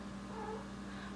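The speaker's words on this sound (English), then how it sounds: "sorry I'm fostering a cat. You could probably hear her meowing." A foster cat meows indoors, a short, faint, drawn-out cry heard alone over low room hum.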